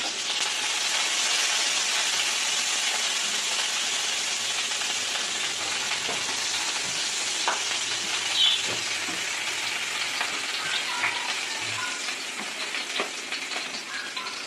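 Spring onion and garlic frying in a pan, a loud continuous hissing sizzle that fades slightly toward the end, with scattered light pops and no talk.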